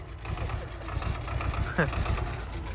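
A tractor engine idles on a grape farm with a steady low chugging throughout, while people talk close by over it.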